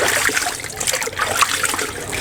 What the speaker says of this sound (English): The hot water has loosened it, and this cold water will finish the process.